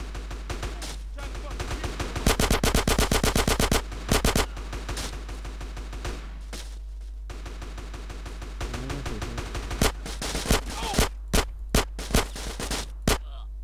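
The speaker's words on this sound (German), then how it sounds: "Schüsse" Machine gun fire in the video game GTA San Andreas, repeated rapid bursts of automatic shots, some long and dense, others short and sharp, against a constant low game hum.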